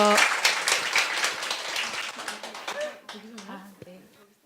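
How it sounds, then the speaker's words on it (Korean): An audience at a lecture on cutting private education costs bursts into dense applause that fades over a few seconds, with a host's voice talking over and after it. "다시 한 번 더, 네, 박수 보내주십시오"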